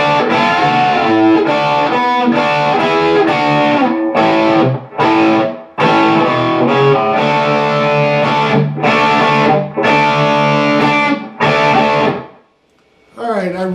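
A distorted electric guitar plays a solo measure: loud, dense, sustained bent notes in phrases broken by short gaps, ending with a brief pause and a final note.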